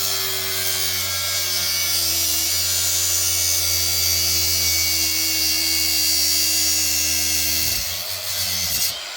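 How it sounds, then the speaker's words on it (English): A Harbor Freight cordless cutoff wheel spins at a steady high whine while cutting, loud and close, holding pitch for several seconds before it slows and winds down near the end. "I use my trusty new favorite toy, Harbor Freight cordless cutoff wheel"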